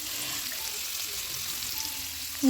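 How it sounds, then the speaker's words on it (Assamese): Cubed paneer fries in hot oil seasoned with salt and turmeric, giving a steady, even crackling sizzle that stays fairly soft and constant, close by with no voices. "এয়া কাটি লোৱা পনীৰখিনি ভালদৰে ভাজি ল'ব লাগিব নিমখ হালধি দি"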